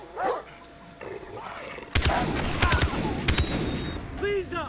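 Gunfire and a barking dog in the Far Cry 3 video game. A loud, rapid burst of shots fills the second half, with brief yelps and someone talking at points.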